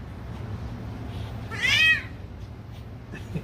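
A cat gives a single rising-and-falling meow, moderately close, standing out over a steady low background hum, with no talking.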